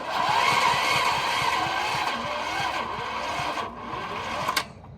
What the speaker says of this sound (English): Let's see if this electric start works now.